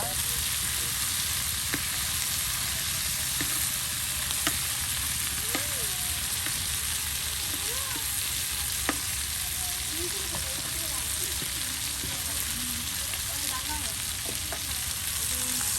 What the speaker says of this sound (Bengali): একদম মচমচে ভেজে নেওয়া হচ্ছে